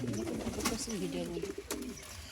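Fancy pigeons coo softly and repeatedly nearby at a pigeon loft, low throaty calls overlapping one another against a light background hum.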